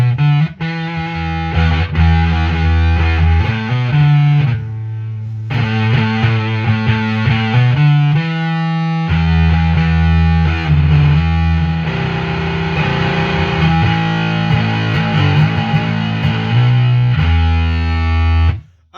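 An electric guitar with light strings runs through a Behemoth II bass overdrive pedal, loud and heavily distorted, playing sustained chords and riffs with a brief drop to silence near the start and an abrupt stop at the end.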